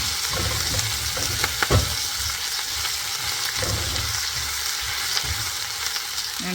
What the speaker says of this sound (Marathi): तो आता आपण गोल्डन ब्राऊन होईपर्यंत फ्राय करायचं.